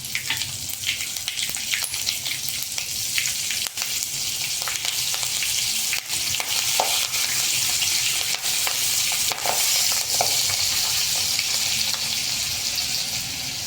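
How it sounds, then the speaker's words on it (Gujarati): Steady, dense sizzling of asafoetida and chillies tempering in hot oil, loud and close, with occasional soft pops and stirring clinks throughout. "વઘારમાં મરચી નાખશું."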